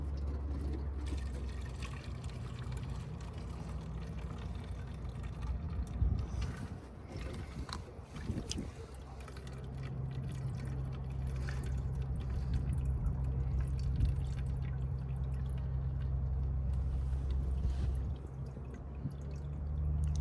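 Fuel drains from an aircraft sump into a water-separation tester as a low, steady trickle and drip that lasts throughout. It is faint against outdoor background noise, and there is no talking.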